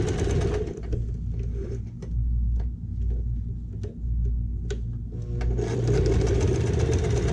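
Sewing machine stitching a bag with backstitches at start and end, a close steady motor whir with rapid mechanical needle clatter, pausing briefly for reversals before running on again.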